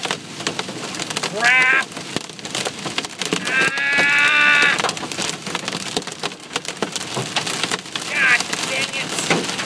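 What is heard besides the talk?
golf ball size hail hitting a car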